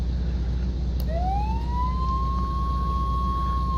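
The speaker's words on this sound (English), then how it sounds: "Lights and sirens on, lights only, and off." An ambulance siren in a simulator game winds up from low to a steady high wail over an idling engine hum, starting after a brief click and holding its tone to the end.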